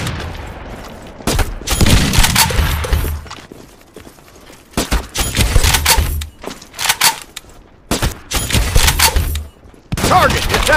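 Gunfire in the mobile shooter Modern Strike Online, played on a smartphone: loud bursts of automatic fire and single shots come in clusters with short pauses, mixed with game sound effects.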